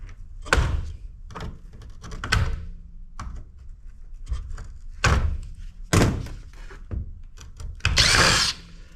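A power tool works at a stuck screw on mud-caked electronics, giving short whirring bursts and knocks spread across the clip. The sounds are close and irregular, followed by a louder, longer burst near the end, with no speech.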